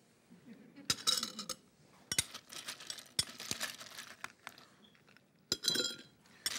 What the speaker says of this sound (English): I believe in some ice cubes.